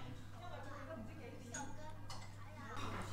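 A spoon clinks a few times against a dish of slippery coconut and taro pudding at a dim sum buffet, faint light taps over a low hum and soft restaurant murmur with voices nearby.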